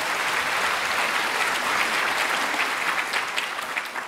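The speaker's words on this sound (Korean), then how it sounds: "큰 박수로 맞이해 주시기 바랍니다" Steady applause from an audience at a Korean inauguration ceremony and rally fills the whole stretch, dense and continuous, tapering slightly near the end.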